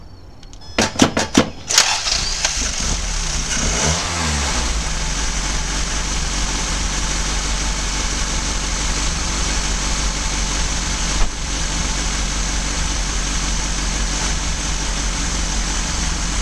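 A car engine cranks over with a few sharp clattering bursts, catches quickly and settles into a steady, loud idle that runs continuously close to the microphone, just after its oxygen sensor was replaced.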